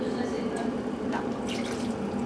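Hot water poured into a measuring vessel, a steady close splashing trickle with a few sharper spatters, and a voice speaks faintly under it.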